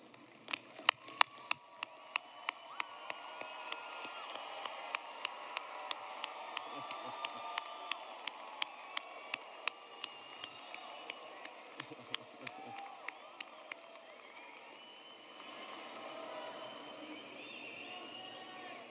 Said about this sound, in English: join me in giving them a round of applause for their support